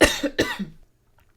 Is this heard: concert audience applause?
no